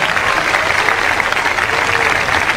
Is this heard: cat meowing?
no